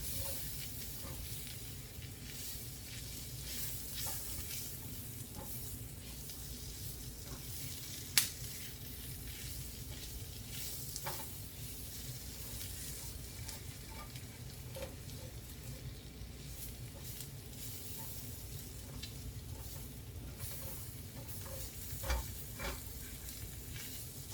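Flour cooks in a pan for chicken stroganoff with a soft, continuous sizzle while it is stirred and scraped. It stays fairly quiet throughout, with one sharp tap partway through and no voices.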